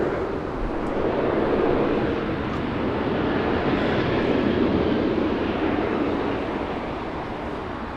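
A United Boeing 787 Dreamliner arriving at Los Angeles International Airport from Newark, its broad, steady engine roar sustained and fairly loud throughout, with no voices.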